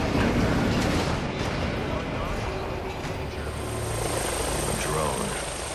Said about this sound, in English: Drone. That doesn't belong here.